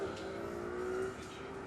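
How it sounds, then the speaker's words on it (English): A Michelin supercar climbs the Goodwood Festival of Speed hill, its engine a steady sustained drone that holds close and even throughout, with no talk over it. "We've got the first of our Michelin Supercars on the hill."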